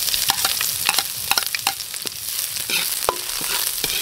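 Beef being sautéed in a pan for a Jägermeister-style drinking snack, with busy sizzling and repeated clinks and scrapes of stirring throughout, close and fairly loud.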